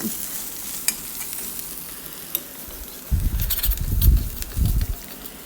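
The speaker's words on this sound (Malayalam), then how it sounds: "ഒരു അര വലിയ ഉള്ളി ഇട്ട് കൊടുക്കുന്നുണ്ട് വലിയ ഉള്ളി ചെറുതാക്കി അരിഞ്ഞത് പിന്നെ ഒരു മൂന്നാല് വെളുത്തുള്ളി കട്ട് ചെയ്തതും ഇട്ട് കൊടുക്കണം" Chopped onion and garlic sauté with fenugreek in a pan, quiet at first, then loud sizzling and stirring bursts close by in the second half.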